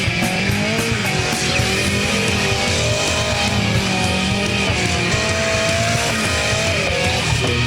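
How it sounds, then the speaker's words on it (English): Drift car sliding around a skid pad, with continuous loud engine roar and tire noise mixed with a dense outdoor crowd and event din throughout. "Drifter Darren McDonald was giving the skid pad a go."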